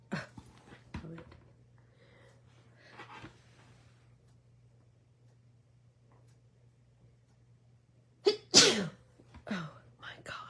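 A person with a dog allergy lets out one sharp, loud, close sneeze near the end, following quieter stretches of soft speech and room hum.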